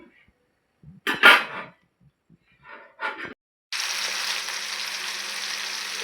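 Onions frying in a pan for a chicken curry give off a steady, broad hiss that starts partway through and keeps going. Short bursts of talk and a few clatters come first.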